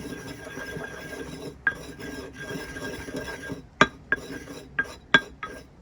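Pepper being ground coarse for a Roman cheesecake, a soft rasping grind broken by several sharp clicks and knocks of the grinder near the end, close and fairly quiet.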